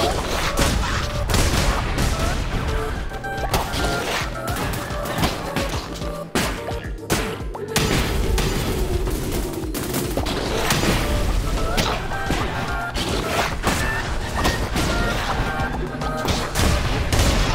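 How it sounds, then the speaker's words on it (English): Dense, continuous bursts of explosions and gunfire in the video game Cult of the Lamb crash over busy music, loud and chaotic throughout, with a voice talking now and then. "Just takes the explosions."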